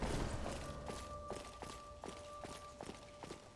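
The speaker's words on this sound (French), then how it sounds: "le bruit des bottes que je fais par contre" The player character's boots in Dark Souls 3 thud in a regular walking rhythm, about eight clear footfalls over a faint steady tone and game ambience, fairly close and unaccompanied by speech.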